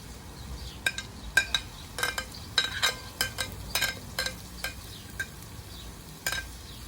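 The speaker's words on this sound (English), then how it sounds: "That's the celery and the parsley I add into it, and allow this to fry up for a little." Celery and parsley frying in a pan for Guyanese fried squash with shrimp, a soft steady sizzle broken by repeated clinks and scrapes of a utensil stirring against the pan.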